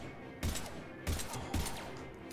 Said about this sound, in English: I also should not be shooting my pistol from that far away.